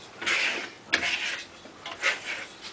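A trowel rubs and polishes Venetian plaster under firm pressure, giving a series of short scraping, hissing strokes that rise and fade in an uneven rhythm, close and moderately loud.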